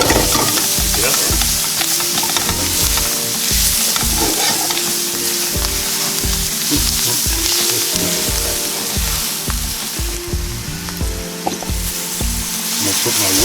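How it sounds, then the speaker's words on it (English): Mushrooms and Salisbury steak sizzle loudly in a frying pan, a dense continuous crackle with repeated scraping stirs throughout, close and steady with no talking. "I think I'm going to go ahead and throw those mushrooms in too."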